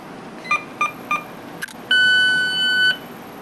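Short electronic beeps from a LOGAN SYS7000 autosampler as its carousel or arm moves: three quick evenly spaced chirps, then a longer sustained tone lasting about a second, loud and close over a quiet lab background.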